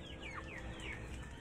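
Chickens clucking softly at a distance, a few short rising calls over a low background hum.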